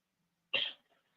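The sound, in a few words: throat clearing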